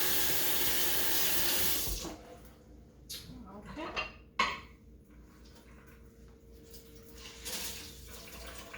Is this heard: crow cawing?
no